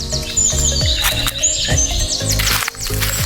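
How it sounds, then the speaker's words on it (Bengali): In a jungle, a bird repeats bright, high chirps and tweets over a dense, continuous bed of other birdsong and insect-like background noise. "তো বন্ধুরা, পাখিটা এইদিকে উড়ে আসলো।"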